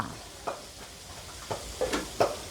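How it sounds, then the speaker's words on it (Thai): Catfish frying in a pan of hot oil in a Thai home kitchen, a faint steady sizzle punctuated by several soft scraping stirs at irregular intervals, quiet and close. "มาดูทอดปลาดุกค่ะ"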